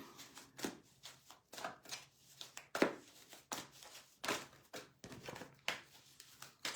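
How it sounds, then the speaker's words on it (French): Tarot cards drawn from an angel deck: soft, close card slaps and papery shuffling in a quiet room, coming in irregular bursts. "On va tirer 3 cartes de tarot ici"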